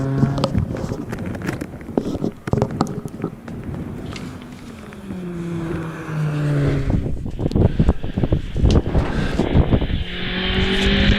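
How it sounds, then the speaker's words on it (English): A Renault Clio 197 race car climbing past at a hillclimb, its engine rising and falling through gear changes as it approaches, passes close and pulls away, with wind buffeting outdoors. "Ian Downey in the Clio 197 just going by us now."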